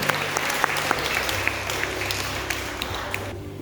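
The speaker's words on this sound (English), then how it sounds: "Clapping, yeah." Audience clapping at a school carol service for infant and primary students, steady dense applause from a crowd throughout, with a few sharper individual claps, fading out near the end.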